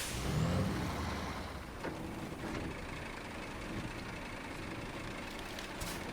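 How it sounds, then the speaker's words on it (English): A heavy tractor-trailer truck rumbles past at close range, with steady, loud engine and road noise and a brief hiss like an air brake. "he drives a tractor trailer"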